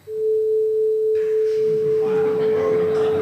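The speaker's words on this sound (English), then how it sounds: "Sound of a tuning fork" An 1859 recording of a tuning fork, reproduced as a single steady pure tone held throughout over a soft hiss and faint crackling noise.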